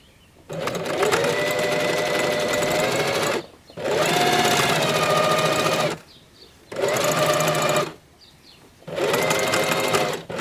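Four bursts of steady whirring come from a sewing machine joining the waistband of climbing pants, each run lasting two to three seconds with brief pauses between.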